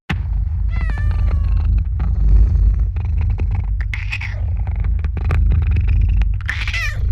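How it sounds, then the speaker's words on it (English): A cat lets out a few short meows over a steady low rumble, the cries rising and falling at intervals, close and fairly clear. "Is James the cat my maker"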